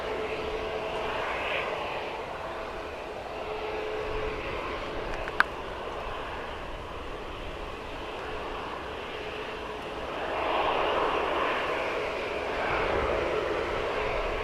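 A Malta Air airliner taxiing at Manchester Airport, its engine noise a steady distant roar with a single sharp click partway through and a swell in loudness near the end.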